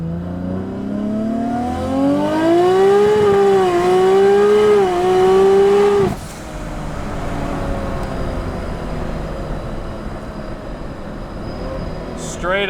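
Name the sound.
Nissan Skyline GT-R automatic accelerating at full throttle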